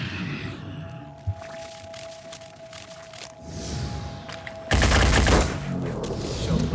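Gunfire bursts in the tactical strategy game Phoenix Point, a loud, dense volley near the five-second mark standing out over lower game ambience and scattered shots, with a steady background tone running through.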